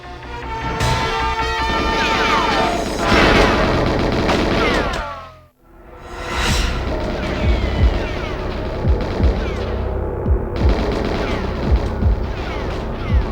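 Loud bursts of gunfire and explosions crackle over a busy soundtrack in the game GoldenEye 007, with a brief drop to near silence midway before the shooting resumes.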